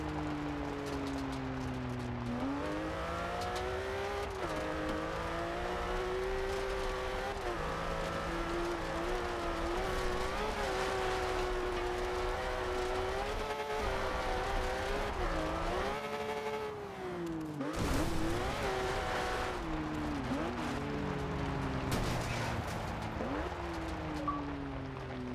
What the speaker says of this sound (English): We have a awesome Porsche Cayman GT.